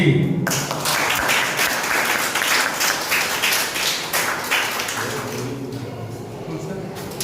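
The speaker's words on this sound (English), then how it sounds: "let's a big clap for this team A, B and C" Students in a classroom clap for quiz competition teams, a brisk burst of many hands at close range that starts at once, runs for several seconds and thins out toward the end.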